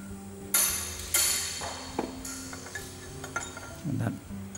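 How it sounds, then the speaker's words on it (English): Metal hammer blows on a C-spanner driving a spherical roller bearing's lock nut along a shaft: two sharp nearby strikes ring out, then several lighter taps and a duller knock, close and loud in a quiet workshop. "Use the hook or C-spanner and a hammer and drive that up."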